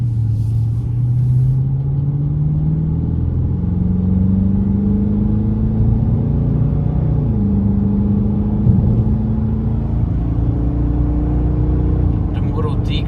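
A Dodge Charger R/T engine accelerates on a dyno, its deep rumble climbing in pitch through several gear shifts, each marked by a brief dip, while someone talks over it.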